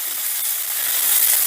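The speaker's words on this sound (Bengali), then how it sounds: "এবার কিশমিশটাও একটু নাড়াচাড়া করে ভেজে নেব।" Raisins fry in hot ghee, giving a soft, continuous sizzling hiss that swells slightly as they are stirred in the pan.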